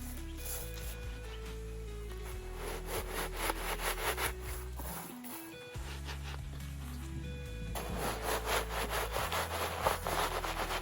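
Custard apples being pushed and buried into grain in a basket, close rustling and scraping of shifting kernels in repeated bursts with a short pause midway.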